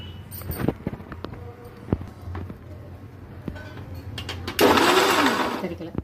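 Scattered clicks and handling noises come first, then a mixer grinder starts blending a fig milkshake with a loud, whirring roar that runs to the end.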